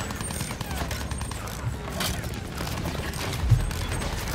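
Rapid gunfire strikes a player's vehicle in the World War I shooter Battlefield 1, a dense, steady rattle of impacts and mechanical clatter running throughout with a heavier thump near the end.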